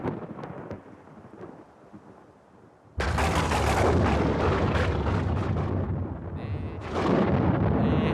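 Distant rumbling first, then a loud, sudden crack of thunder that rolls and booms for several seconds before surging again.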